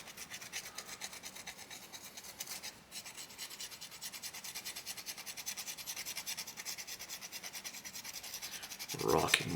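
A rasp files across a soapstone owl carving in quick, even back-and-forth strokes, a close dry scratching that runs steadily, breaks briefly, then grows a little louder before ending in a sharper scrape.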